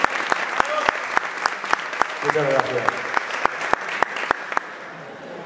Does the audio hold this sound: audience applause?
yes